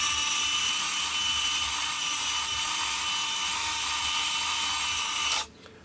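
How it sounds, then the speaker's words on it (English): A Virus 3 RC servo used as a winch reels its line back in with a steady, loud, high-pitched motor whine, holding an even tone until it cuts off abruptly near the end. "and then I'll winch back in"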